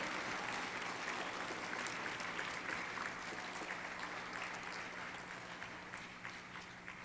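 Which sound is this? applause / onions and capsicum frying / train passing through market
applause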